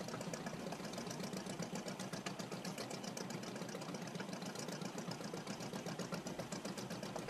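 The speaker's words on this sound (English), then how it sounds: "we need to upgrade that engine." A fishing boat's engine runs steadily in the game Fishing: Barents Sea, a continuous loud drone with a rapid knocking, sewing-machine-like chatter that holds an even level throughout, with no voices over it.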